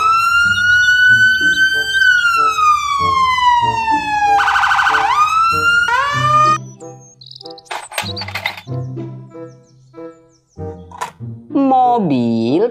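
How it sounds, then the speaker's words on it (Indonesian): Toy police car siren wailing loudly with rising and falling electronic tones, followed by a burst of rapid beeping and more irregular toy sound effects. "Mobil polisi."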